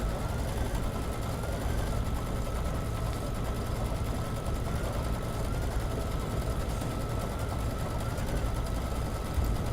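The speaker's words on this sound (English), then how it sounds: "Still going through that quilt stippling, and it's looking good." A sewing machine runs steadily while stippling a quilt for an appliqué tile scene, giving a constant close mechanical hum and stitching buzz with no breaks or speech.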